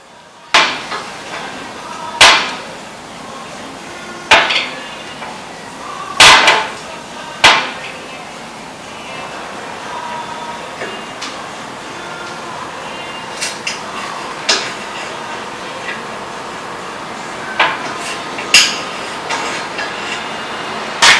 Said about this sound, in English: Right, got the tap wrench now. We're going to tap all these holes.